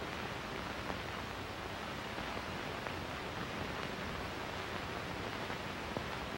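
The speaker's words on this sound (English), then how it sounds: "The deafening white noise as the camera slowly trucks down is effectively creepy." Loud, steady broadband hiss of white noise filling a quiet scene in an old public domain horror film, constant and unbroken with no voices.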